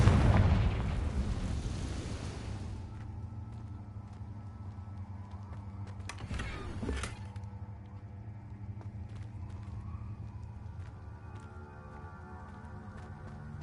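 A Confringo fire spell detonates in Hogwarts Legacy: a loud, roaring blast opens and decays over a couple of seconds into a low rumbling tail, with a brief crackling burst midway.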